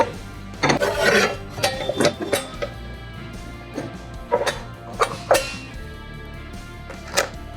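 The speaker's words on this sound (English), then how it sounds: "it's easy to attach using the provided wrench." A wrench fitting a Husqvarna diamond blade onto a Husqvarna K4000 power cutter, giving short scraping and rubbing metal clicks in irregular bursts, fairly close and without talk.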